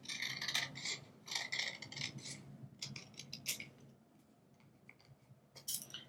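Scissors cut card paper for a handmade Valentine's greeting card in a few quiet bursts of rasping, crisp snips, with a pause in the middle before a final cut, close and faint with no speech.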